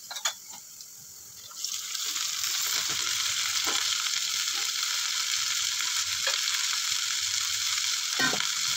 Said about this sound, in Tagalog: Okay, so nag-brown na yung ating bawang. Ang bango talaga. Lagyan na natin guys yung ating kangkong.